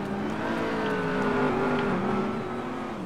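A car in the video game GTA 5 rolls past with a steady engine hum and whir, constant and fairly close, alone without talk.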